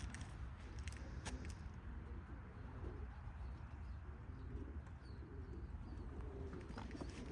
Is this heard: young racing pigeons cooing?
yes